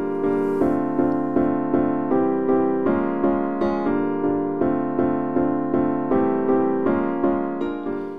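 A basic piano plays a house chord progression, its repeated chords struck in a steady, even rhythm and shifting every couple of seconds, clear and upfront with nothing else heard.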